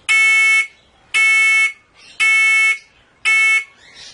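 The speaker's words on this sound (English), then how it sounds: "we'll hit alarm 10, approaching alarm, which is the first alarm level at 10" A Terrain Trakka rollover prevention system by 3DX sounds its first-level approaching alarm: four loud, shrill electronic beeps of about half a second each, evenly spaced, with no talk.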